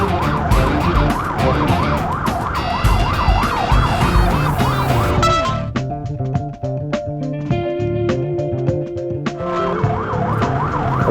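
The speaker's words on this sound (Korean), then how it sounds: "구급차도 바로 출동했군요." A loud ambulance siren wails nearby, its rising and falling tone switching partway through to a rapid yelping pattern, with traffic rumbling underneath.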